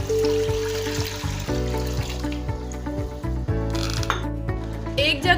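Roughly a jug of water poured into a medium-sized pressure cooker for cooking masoor dal, a steady splashing stream with a few metallic clinks against the pot, loud and close over background music.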